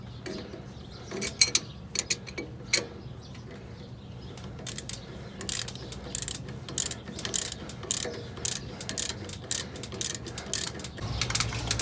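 Rapid ratchet clicking works the 13 millimeter caliper bracket bolts off a 2008 Jeep Rubicon during a brake job, in short bursts of fast clicks with pauses and faint knocks, close and moderately loud.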